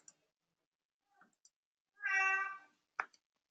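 A domestic cat gives a single clear meow lasting about half a second, close by, amid a few faint clicks in an otherwise quiet room during a live online meetup.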